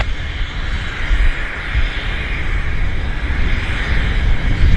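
Heavy airliner departing Vancouver Airport, its jet engines producing a loud, steady broadband roar that swells gradually as it powers down the runway, with no voices over it.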